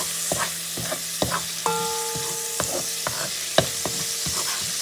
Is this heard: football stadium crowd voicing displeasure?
no